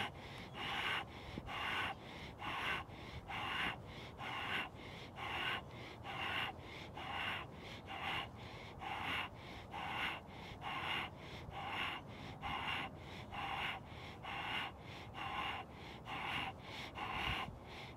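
Slow, deep breaths in and out during a seated shoulder press exercise, each inhale and exhale audible and close, repeating in an even rhythm of about one cycle per second.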